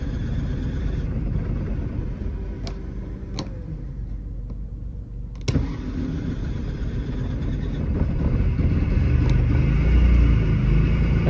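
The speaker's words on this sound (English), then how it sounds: "We'll fire up the generator here so you can hear it run" The onboard generator of a 1991 Toyota Winnebago Itasca Micro Spirit motorhome running with the choke pulled out, a steady close low rumble that grows slightly louder, with a few sharp ticks and clicks over it.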